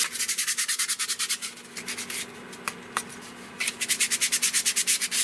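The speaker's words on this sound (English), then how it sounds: "the coaster's a light sand and medium grit sandpaper" A light hand sanding of an oiled wooden coaster with medium grit sandpaper gives a close, steady run of rhythmic back-and-forth rasping strokes, with a brief slower pause in the middle.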